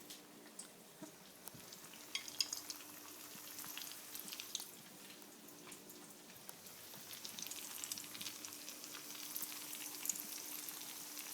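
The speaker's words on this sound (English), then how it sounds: "we're just basically going to fry it" Steady, quiet sizzling and crackling of bacon mac and cheese balls frying in oil in a pan, continuous with small popping spits throughout.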